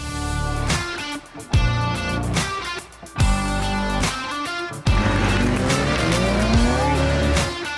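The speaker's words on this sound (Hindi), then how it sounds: "I am driving C63 AMG Mercedes." A Mercedes C63 AMG races around a tricky autocross track, its engine roaring loudly and close with repeated tire squeals and skids as it powers through corners, with no talking.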